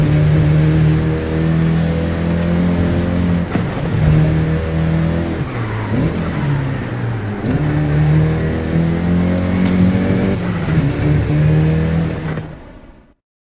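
A Volkswagen Golf GTI engine in Forza Horizon 5 revs loud and close, repeatedly climbing through the gears with brief dips at shifts before it cuts out at the end; no voices.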